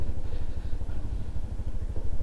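A motorcycle engine drones continuously during a short countryside ride, a close, rough mid-pitched rumble with uneven pulsing and some rattle, no voices.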